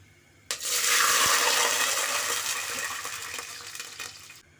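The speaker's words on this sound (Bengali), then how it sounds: "এখানে দিয়ে দেবো আমি চার কাপ পানি" Four cups of water poured into a cooking pot of fried bay leaves, cinnamon and cardamom for pulao, a loud close rushing gush that starts abruptly and fades slightly over about four seconds before stopping.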